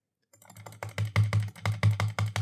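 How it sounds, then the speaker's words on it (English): Rapid clicking on a button during a click-speed game built in Unity, a steady burst of close, crisp clicks at roughly five per second that starts abruptly after a short silence. "we need to click on this button as much as we can"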